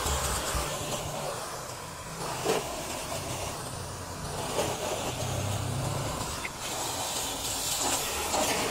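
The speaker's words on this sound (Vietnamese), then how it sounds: "Những cái hốc bốn hốc bánh xe các bạn xịt kỹ." A BZ snow foam sprayer blasting foam into a car's wheel wells, a loud continuous broad hiss of spray close by that wavers slightly in intensity throughout.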